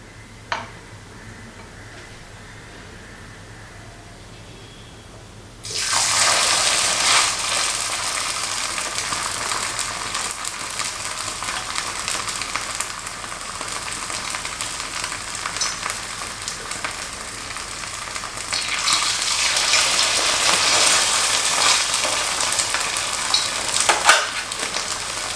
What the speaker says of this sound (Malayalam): അപ്പം ഇതിലേക്ക് ഞാൻ ഓരോ സ്പൂണ് ഒഴിച്ചു കൊടുക്കുകയാണ്.